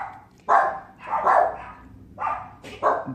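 A puppy barks at something outside, giving four or five sharp, close yips and barks in an uneven rhythm.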